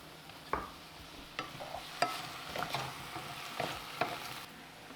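Frozen vegetables cook in a dry pan with no oil, giving a low, steady sizzle broken by repeated scraping and stirring clacks of a utensil against the pan. The sound is close and quiet with no voices.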